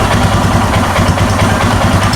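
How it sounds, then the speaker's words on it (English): A Royal Enfield Himalayan motorcycle engine runs loud and close, a continuous rumbling throb with no clear rise in pitch across the short stretch. "I'm going to throttle up and see if it releases."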